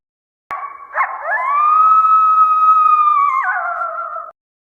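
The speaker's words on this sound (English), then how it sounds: "coyote" Coyote howling: one long, clear, rising then sustained howl lasting close to four seconds, starting with a short yip-like break and ending in a wavering drop, heard alone and nearby.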